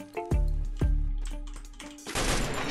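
Gunfire in the mobile battle royale game Free Fire: a few loud, sharp shots close together, followed by a denser crackling burst near the end.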